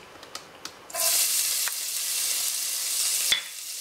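Chopped garlic dropped into hot oil for chilli paneer: a few light taps, then a sudden loud, steady sizzle that fills the rest of the moment, close up and with no talk.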